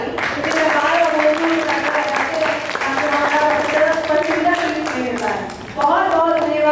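Loud, dense audience applause at a live stage show, sustained clapping throughout with a brief dip before it swells again near the end; voices are mixed into the crowd.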